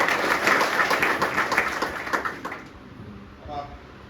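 Applause at a business meeting, a burst of crowd clapping that stays loud for about two and a half seconds and then dies away into near quiet.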